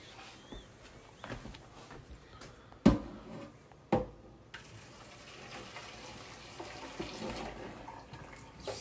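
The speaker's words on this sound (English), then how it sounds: "You might want to turn on a little cold water when you do this." Cold water runs from a kitchen tap into a colander in the sink, a faint continuous stream broken by a couple of sharp clanks of cookware, heard from nearby.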